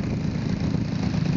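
A car or motorcycle engine idles smoothly and steadily, a continuous low, even rumble held close and fairly loud throughout.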